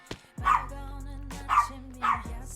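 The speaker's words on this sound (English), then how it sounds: "Stop barking" A pet dog named Lizzie barks three times in separate sharp bursts, fairly close, with a low steady hum running underneath and no talking over it.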